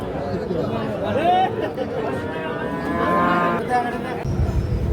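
Sahiwal calves mooing at a busy cattle market, with long, drawn-out lowing calls set close against a constant hum of people talking and crowd noise.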